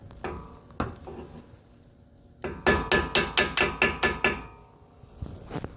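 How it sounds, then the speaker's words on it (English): A few scattered hammer taps on a metal Camaro brake caliper, then a quick burst of eight rapid ringing blows, then another lone strike, close and clear. "Just hammer away"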